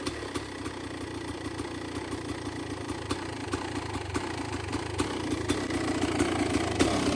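A Kawasaki KX 500 two-stroke dirt bike runs steadily after a cold start following months of sitting, its engine buzzing at a fairly even idle with faint rhythmic ticking and a slight rise in intensity toward the end.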